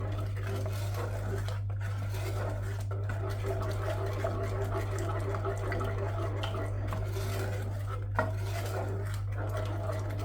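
A pot of toffee sauce heats toward a simmer on the stove while a utensil scrapes and clinks against it in soft, irregular touches. The quiet stirring sits over a steady low hum.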